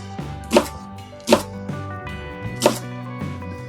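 A knife chops a leek sharply on a board three times at uneven intervals, each crisp thud standing out over a low background hum.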